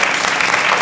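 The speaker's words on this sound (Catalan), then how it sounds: "Senyors i senyores del públic, aplaudiment per a valorar l'actuació de Pere Aznar, per favor." A studio audience claps loudly and steadily throughout, a dense, continuous burst of applause for a performance on a Catalan morning TV quiz show.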